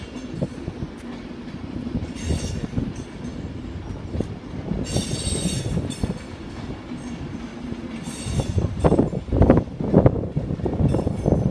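A train passes through Edinburgh station with a steady near rumble of wagons, clattering wheels and bright bursts of wheel squeal, growing rougher and louder toward the end.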